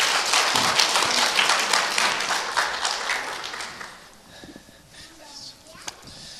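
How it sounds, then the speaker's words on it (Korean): A church congregation at a retreat applauds to welcome a missionary, dense clapping that fades out midway, leaving scattered movement and a few stray claps behind. "우리 손찬아 선교사님 한번 박수로 또 모시도록 하겠습니다."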